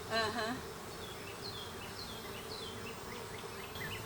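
Honey bees buzz around the entrance of a hive fitted with a reducer, flying figure-eight orientation loops; a steady, dense drone of many wings stays close throughout, with faint higher whines from individual bees passing by.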